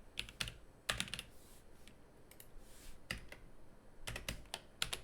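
Soft clicking from typing on a computer keyboard during a tabletop roleplaying game session, short clusters of close keystrokes separated by brief pauses.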